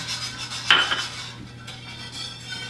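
Fresh thyme being stirred into a slow cooker dish: soft scraping and a couple of brief utensil clinks against the pot near the start, then quiet rubbing over a steady low hum.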